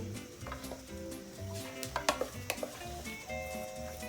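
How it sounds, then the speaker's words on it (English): Egg is worked into churro dough with a utensil scraping and knocking against the bowl in quick irregular strokes, faint clinks mixing with a soft background sizzle. "After I mix the 2nd egg"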